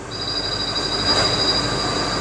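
A train rumbles steadily at a Singapore airport platform, with a high metallic squeal ringing over the broad noise as the cars roll in.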